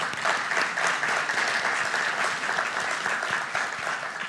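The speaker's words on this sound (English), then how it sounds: "We could give her a round of applause." An audience at an Arizona State University education event gives Barbara Howard, the speaker's wife, a round of applause, with steady, fairly soft, dense clapping from many people and no talking.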